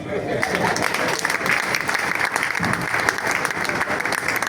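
A crowd at an industry awards night applauds a slam poet, loud, close and continuous clapping throughout.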